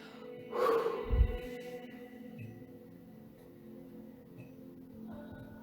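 A slow, deep breath in and out during a guided meditation, heard as a soft airy inhale swelling and then fading into a quiet exhale, alone and fairly close.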